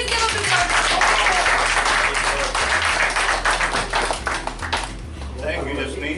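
An audience at a stock market seminar applauds after a speaker's introduction, a dense, steady burst of clapping that lasts several seconds with a voice heard faintly beneath it.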